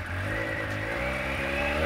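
A brand-new 2022 Triumph Speed Triple RS motorcycle engine running steadily after start-up, a near, even three-cylinder drone with a slight rise in pitch toward the end, alone without talk.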